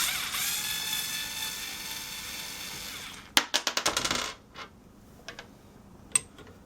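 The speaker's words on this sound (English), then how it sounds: "First thing we're going to do is remove this screw, take the foregrip and the barrels off." Work on an old Berkshire double-barreled shotgun, removing a screw so the foregrip and barrels come off: a quick burst of small metallic clicks and rattles, then a few scattered ticks of parts shifting.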